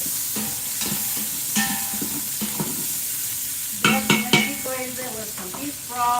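Beef sizzling and browning in an Instant Pot, a steady frying hiss broken by repeated scraping stirs and a few sharper clinks of utensil against the pot.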